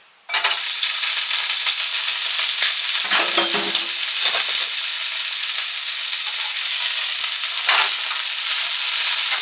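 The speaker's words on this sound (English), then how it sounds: "you can hear my salmon in the back" Loud, steady sizzling and crackling of salmon frying in a hot pan, continuous and close, with a brief clink partway through and no talking.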